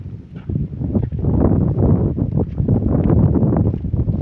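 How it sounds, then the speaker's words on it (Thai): Wind sweeps across the Pha Chamnieng cliff viewpoint, buffeting the microphone as a continuous, loud, rumbling roar that gusts unevenly from start to finish. "บรรยากาศโอ้ลมเย็นดีครับผม"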